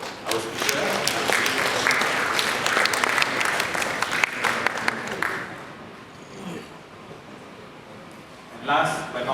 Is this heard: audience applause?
yes